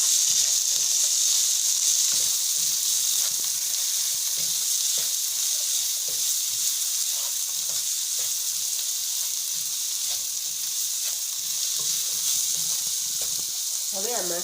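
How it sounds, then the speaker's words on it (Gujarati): Ground spices (red chilli, turmeric, coriander-cumin powder and garam masala) with potato sizzle and crackle steadily in a hot pan for a vegetable pulao, a spoon stirring and scraping through the frying at close range. "મસાલાને હલાવી દઈએ."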